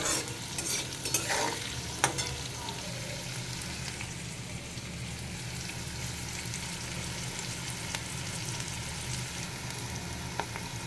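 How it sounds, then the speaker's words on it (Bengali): Vegetables sizzle steadily in a hot pan while being stirred, with scraping clicks of the utensil against the pan standing out over the continuous frying hiss. "তো আমার সবজি ভাজা হয়ে গেছে"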